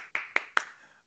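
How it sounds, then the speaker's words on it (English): Three sharp hand claps in quick, slightly uneven succession, close and fairly loud, each with a short ringing tail, alone without talk. "Because I want to clap for that person."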